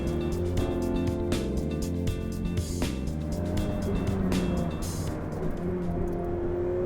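A Ferrari 488 Pista driving on a bumpy Italian road holds a constant, loud, close engine drone with steady tonal harmonics. Intermittent thumps and rattles run through it from the uneven surface.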